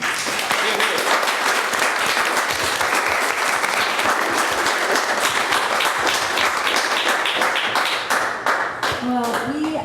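Loud, dense applause and clapping from an audience honoring artists at an artist talk, continuous for about ten seconds with a voice speaking near the end.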